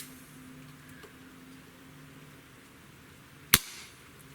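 A Schofield replica air revolver fires a single pellet shell loaded with BBs, one sharp crack near the end after a quiet stretch with a faint steady hum.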